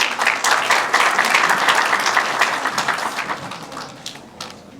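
An audience applauds as a speaker is welcomed onto the stage at an international exhibition opening in Australia, a sustained crowd of many hands clapping close and loud, thinning out toward the end.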